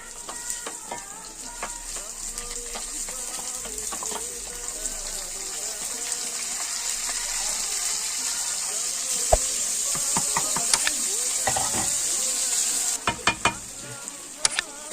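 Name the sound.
rice added and stirred with frying vermicelli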